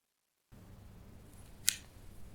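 A single sharp click from a left knee straightening out of deep flexion, one brief crisp snap standing out against a quiet, low background.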